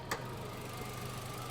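A Haval Jolion's 1.5 MPI engine idles quietly with a low, even hum and a single soft tick near the start, no voices present.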